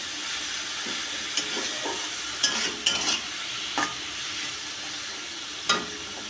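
Ginger spice paste for a fish curry made without onion or garlic sizzles steadily in a pan, with close scraping stirs breaking through at irregular moments over the constant hiss.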